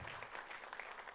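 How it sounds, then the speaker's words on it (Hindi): Audience at a Bhojpuri film trailer launch event applauding, a faint continuous patter of many hands clapping throughout. "जरा मधु जी के लिए जोरदार ताली बजाइए प्लीज"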